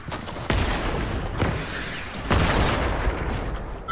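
Gunfire in Fortnite booms out in several heavy, echoing reports spread across a few seconds, distant-sounding and rumbling over a constant noisy game background.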